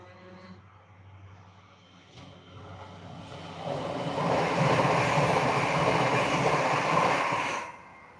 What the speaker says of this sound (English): Here comes a Class 397 Transpennine Express going to Glasgow Central.